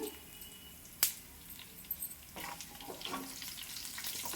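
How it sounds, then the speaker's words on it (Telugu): Garlic and dried red chillies fry in hot oil in a pan for a chutney, giving a steady soft sizzle with a sharp clatter near the start and a few scraping stirs. "వెల్లుల్లి కూడా బాగా ఫ్రై అయిపోయి ఎండుమిరపకాయలు ఫ్రై అవుతున్నాయి"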